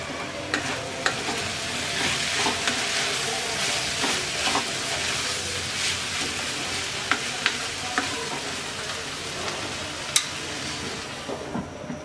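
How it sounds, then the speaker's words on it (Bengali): Long beans frying in a pan are stirred with a utensil, a steady sizzle and crackle running throughout with scattered scraping clicks and a few sharper knocks, close and moderately loud with no talking. "ঢাকনা খুলে নেড়ে দিচ্ছি।"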